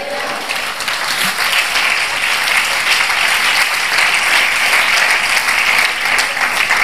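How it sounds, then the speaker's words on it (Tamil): A church congregation claps hands overhead in loud, sustained, dense applause that carries on steadily without a break. "தலைக்கு மேலே கைதட்டுங்களே."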